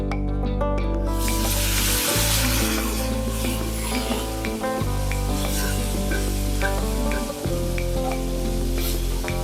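Spice masala fries with a splash of water for an egg brain recipe, sizzling loudly and close, stirred throughout, with a continuous tonal hum running beneath the frying.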